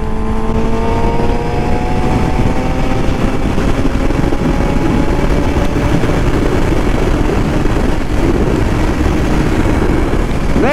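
A Suzuki GSX-R 750 motorcycle engine runs loud and close through its exhaust, holding a steady drone with slight pitch shifts over ten seconds.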